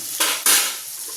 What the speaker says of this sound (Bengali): পেঁয়াজটা ভেজে অর্ধেক পেঁয়াজ আমি তুলে রেখে দেবো।